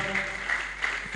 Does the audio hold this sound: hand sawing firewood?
no